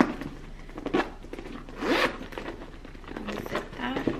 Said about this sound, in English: Unzip that.